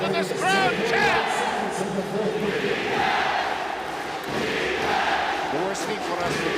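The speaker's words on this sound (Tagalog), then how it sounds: "Listen to this crowd chant!" A large basketball arena crowd of roughly ten to twelve thousand people roars and chants continuously, loud and dense, with rising swells and overlapping voices throughout.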